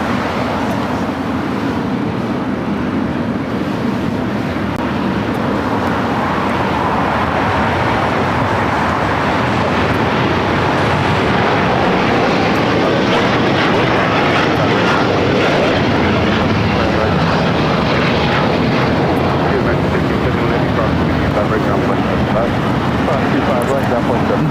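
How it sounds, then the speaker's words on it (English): A United Airlines Boeing 787-9 Dreamliner takes off from LAX, its loud jet roar building and sustained across the whole stretch, with people talking underneath. "This is United Airlines 801 taking off to Hong Kong on the 787-9 Dreamliner."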